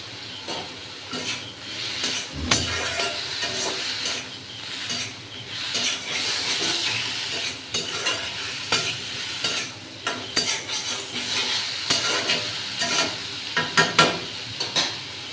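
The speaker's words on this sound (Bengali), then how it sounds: "এই মশলার সঙ্গে ভালো করে আমি কষে নেব" Potatoes and masala with a little biryani masala are stir-fried in a pan, a loud close sizzle broken by frequent scraping and clinking of a spoon against metal, with no voices.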